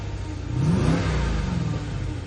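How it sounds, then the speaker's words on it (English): A Jeep Grand Cherokee SRT engine revs up briefly then settles, its exhaust giving a deep throaty rumble heard from close by with no talking. "Just wanted to give you guys an idea of what the exhaust sounds like."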